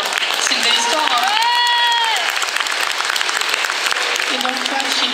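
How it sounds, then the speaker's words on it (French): Audience applauding at a fan convention, a dense sustained clapping from a crowd heard close and loud, with a voice speaking over it. "C'est beau, on peut les applaudir quand même."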